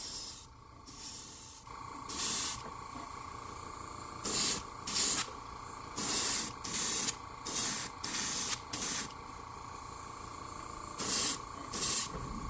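An airbrush sprays pearlized white paint onto the belly of a trout fishing lure in about ten short hissing bursts over a steady compressor hum, close and without talk.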